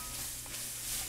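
Venison fajita vegetables sizzle steadily in a hot pan, a close, dense, even hiss with a faint crackle and no talking over it.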